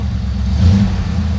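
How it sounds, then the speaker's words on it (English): Engine of a van with a manual gearbox and an untuned carburetor running close by, a steady low rumble that swells briefly as it revs up, with light wind outside. "you can see it definitely runs. The engine, it goes."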